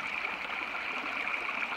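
A brook flows at a trailside campsite on the Appalachian Trail, a steady, close rushing and trickling of water that holds even and unbroken throughout with no voices.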